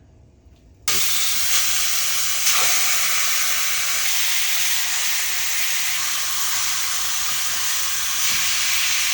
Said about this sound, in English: Got it seared on both sides